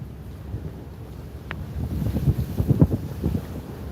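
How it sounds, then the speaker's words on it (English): Big sea waves and strong wind buffeting the microphone at sea near Istanbul, a steady rumbling roar with surging swells building louder toward the end, no talking. "Looks beautiful, the big waves."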